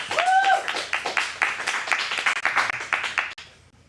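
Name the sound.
audience applause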